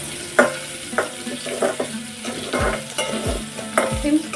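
Onions frying in oil for a brinjal gravy, a steady sizzle broken by repeated scraping strokes and knocks of a spoon stirring against the pan, close and clear with no voices.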